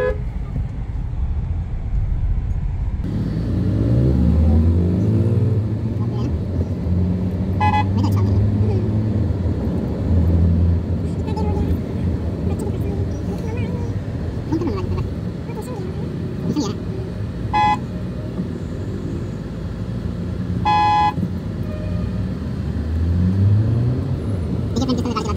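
Evening rush-hour road traffic in a local city as office workers head home, a steady dense rumble of engines with occasional horn toots, near and continuous, with people talking over it.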